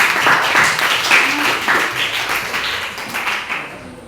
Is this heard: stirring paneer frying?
no